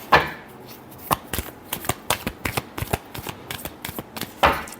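Tarot cards are shuffled in a rapid run of crisp riffling slaps and flutters, with a louder burst at the start and another at the end, close and clear with no talk over it.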